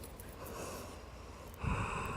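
Steady breath released during a yoga stretch, a soft, airy exhale rising into a slightly louder, rougher puff near the end, close and on its own.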